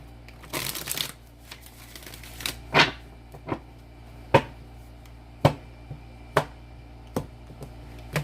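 A burst of riffling tarot card shuffling, followed by a series of sharp, evenly spaced taps and slaps of cards on a surface, close and crisp.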